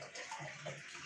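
Water filling from a tap into a container at home, with a steady broadband rushing gush and a low hum running throughout the short stretch, fairly close and continuous with no talk.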